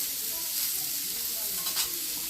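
Green chilies frying with pumpkin for a Bengali village-style bhaji, a dense even hiss of sizzling oil with a brief stirring scrape near the end, close and steady.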